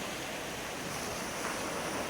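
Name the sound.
sea waves at a beach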